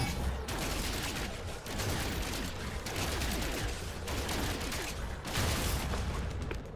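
Rapid, sustained gunfire in No Man's Sky as a player blasts a reinforced door. Dense volleys of shots run continuously at steady loudness with brief dips throughout.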